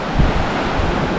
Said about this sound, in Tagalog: We are here in Arumwana Beach.